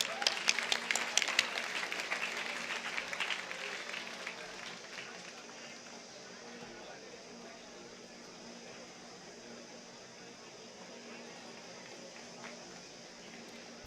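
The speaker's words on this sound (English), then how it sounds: "Let's give them a round of applause, please." An Independence Day celebration audience at IIT Madras gives a brief burst of applause that fades within a few seconds into a quiet hall with faint room noise and a voice in the background.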